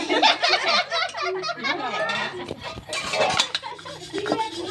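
Freshly washed dishes, pots and utensils clatter and clink as they are handled and set down, sharp metallic knocks close by, with brief light laughter in between.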